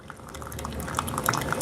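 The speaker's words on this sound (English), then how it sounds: "This is the sound of a freshly brewed coffee that BC is going to take the fuck down." Hot liquid gurgles and bubbles close by, a short burst of pouring and bubbling coffee with small popping sounds.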